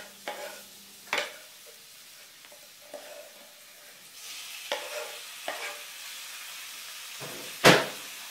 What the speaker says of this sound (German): Und dieses muss jetzt unter ständigem Wenden ein paar Minuten gebraten werden, bis das Fleisch durch ist und die Zwiebeln goldbraun geworden sind.